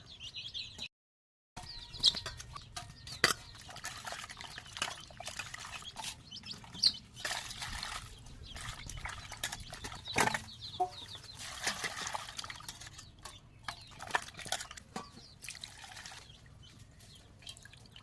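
Small fish being rinsed by hand in water, with steady splashing, sloshing and dripping close by throughout, plus scattered sharper knocks and splashes.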